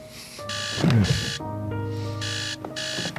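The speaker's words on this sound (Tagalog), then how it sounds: "cellphone ko pala nag-alarm." A cellphone alarm rings in repeated electronic tone bursts, beeping in a steady on-off pattern that sounds near and clear with no talking.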